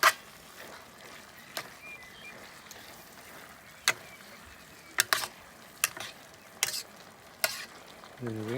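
Sticky chicken noodles stir-fried on a Cadac Safari Chef 2 gas cooker, with a steady low sizzle broken by sharp clacks and scrapes of a utensil separating the noodles; a brief voice speaks near the start.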